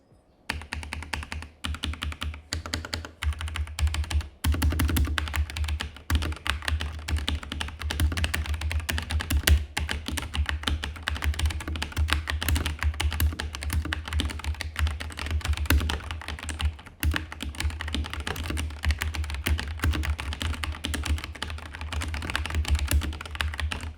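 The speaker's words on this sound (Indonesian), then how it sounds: "ini untuk feeling type dari suara Red Switch gue yang udah ganti" Steady typing on an Armaggeddon MKA-3C mechanical keyboard fitted with replaced Red linear switches, a dense run of quick clacking keystrokes close up and alone for about twenty-four seconds.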